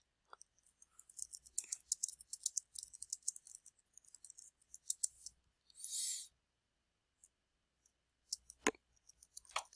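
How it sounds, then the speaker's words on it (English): Sparse, quiet clicking of keys in short irregular bursts with pauses, close up, plus a brief soft hiss midway and a sharper click near the end. "and you can just begin typing."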